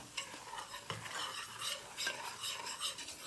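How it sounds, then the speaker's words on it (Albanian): A spoonful of flour is stirred in a hot frying pan, a steady scraping and gentle sizzle with light utensil ticks against the pan, close and fairly quiet, with no voices. "Edhe e trazojmë në të tillë mënyrë që mos na krijohen kokriza."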